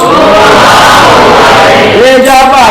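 A large audience sings a simple "oh, ah" call together, a loud, dense mass of voices holding a long vowel before sliding into a second sustained pitch.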